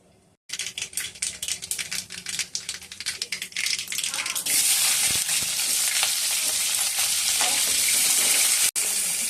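Tomatoes, onions and byadgi chilies fry in oil in a pan for chutney. Brief rapid clicks give way to a loud, dense, close sizzle that holds steady to the end.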